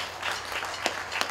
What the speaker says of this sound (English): Just another round of applause to say thank you to everyone.